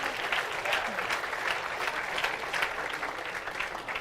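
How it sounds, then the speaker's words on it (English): An audience applauds at the 2019 U.S. Amateur Championships stepladder finals and Team USA announcement, a continuous wash of crowd clapping that stays fairly even for several seconds. "Give them a round of applause,"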